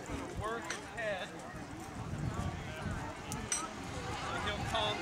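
A horse lopes softly in a steady three-beat rhythm of muffled hoofbeats over a busy outdoor background, with a voice talking over the footfalls.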